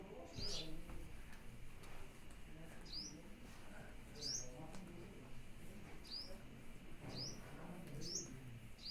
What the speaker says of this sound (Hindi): बैकग्राउंड में जो चीची की आवाज़ आ रही है उसे इग्नोर करें, क्योंकि मेरे घर में बहुत सारी चिड़ियाँ हैं।